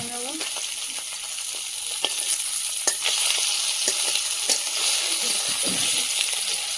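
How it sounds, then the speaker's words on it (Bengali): Tengra fish sizzles steadily in hot oil, a dense, loud frying hiss with occasional sharp pops and spatters and the scrape of stirring, heard close up throughout. "মাছটা ভাজা হয়ে গেছে, তুলে নেবো"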